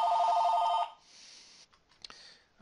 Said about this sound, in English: my phone's just ringing off the hook